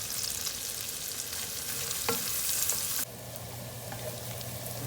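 Onions frying in a generous knob of butter with salt and black pepper, a dense bright sizzle that drops abruptly in level partway through, with a faint clink or two and no voices.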